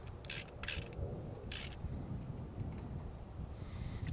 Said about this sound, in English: we're going to tighten it all the way down now.